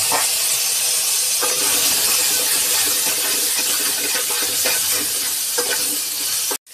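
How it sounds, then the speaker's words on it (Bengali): Pieces of pointed gourd (potol) fry in hot oil, loud close sizzling with a continuous bright hiss and occasional stirring clatters, then the sound cuts off abruptly at the end. "ওই তেলে পটলগুলো দিয়ে দিচ্ছি ভাজার জন্য।"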